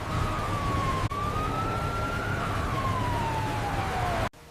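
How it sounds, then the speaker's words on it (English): A single siren wails steadily over a low rumbling background, its pitch sliding slowly up and then down before cutting off abruptly. "Sirens are crossing the county line."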